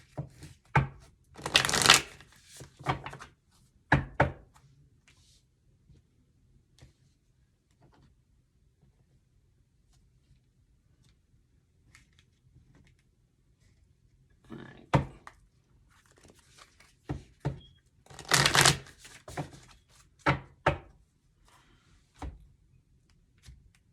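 Tarot cards riffled and shuffled by hand in two separate bursts of quick papery flutters, close and crisp, with quiet pauses between them.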